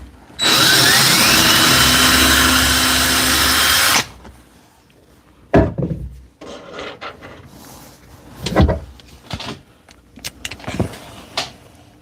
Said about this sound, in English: And then I drill for the bottom hinge